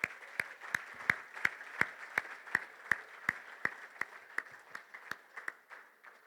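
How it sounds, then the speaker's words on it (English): Slow, evenly spaced clapping at an awards dinner for referees, audience members applauding spouses and partners, sharp distinct claps in a steady rhythm that thin out and fade toward the end. "I want all our men and women to please applaud their spouses and partners here tonight"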